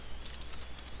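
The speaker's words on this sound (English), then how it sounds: "And I'll type in" Typing on a computer keyboard, a short run of soft, quick key clicks at an even pace, quiet and close, with no talk.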